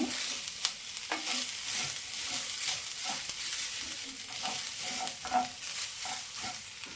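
Mango kadubu filling frying in a pan, a steady broad sizzle with repeated scraping stirs and soft spoon taps through the whole stretch, at moderate level with no talk.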